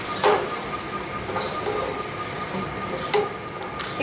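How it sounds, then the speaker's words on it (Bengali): Chopped onion frying in spiced oil, a steady close sizzle with a few soft scrapes of stirring over it, no voices. "এখন দিয়ে দিচ্ছি পেঁয়াজ কুচি, একটু নাড়া দিয়ে নিব।"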